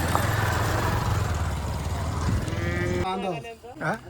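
A bull at a rural bullock-cart racing ground gives a low drawn-out moo late on, after loud crowd and engine rumble fill the opening seconds.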